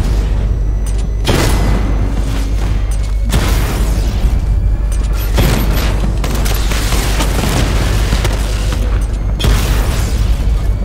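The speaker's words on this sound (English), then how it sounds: "these tanks give you such like a warning that they're going to shoot at you." Tank cannon fire in the Batman: Arkham Knight video game, heavy repeated booms and bursts over a constant low rumble with dense battle noise throughout.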